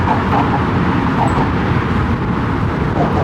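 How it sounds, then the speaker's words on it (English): Cars roll over a bridge joint onto the road near the Brooklyn Bridge in New York City, a steady loud traffic rumble with passing vehicles close by. "The cars crossing over that, joining the road."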